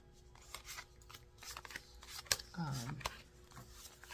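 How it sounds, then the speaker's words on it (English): A tarot card deck with gold gilding on the card backs being shuffled by hand, giving soft riffling and flicking bursts with a sharper snap near the middle, while faint speech and room noise run underneath. "Let me go through and shuffle this up."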